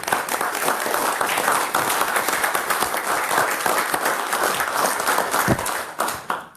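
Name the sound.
audience applause for Todd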